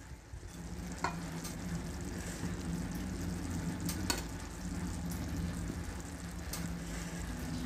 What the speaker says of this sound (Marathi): आता याच्यामध्ये आपण भात घालून घेऊया।